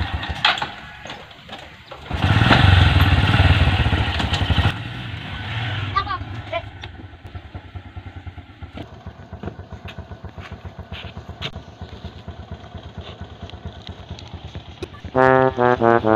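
A motorcycle engine idles and revs nearby with a steady chugging rumble, rising loud early on before settling to a low putter, with voices talking around it.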